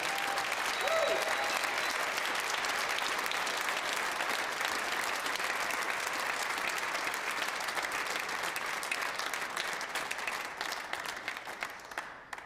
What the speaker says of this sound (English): Let's have another round of applause for David.